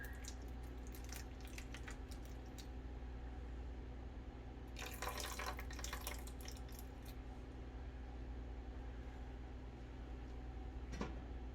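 Tap water running into a 16-ounce cup, faint splashing and trickling in short bursts over a low steady background hum.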